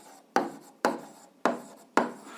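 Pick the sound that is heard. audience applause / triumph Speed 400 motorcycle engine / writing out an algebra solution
writing out an algebra solution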